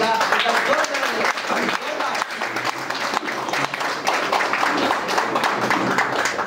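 Applause from a large audience at a crowded public gathering in Sangli, a dense, steady wash of clapping that runs without pause, with no talk standing out above it.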